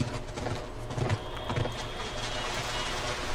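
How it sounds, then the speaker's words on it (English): Horse hooves clip-clop in steady, moderately close beats in the video game The Last of Us, set against a constant mechanical background hum with no talking. "The horse."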